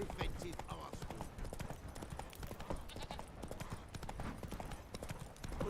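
The hooves of Roach, a horse in The Witcher 3, clip-clop in a steady trotting rhythm throughout. Faint game voices talk underneath.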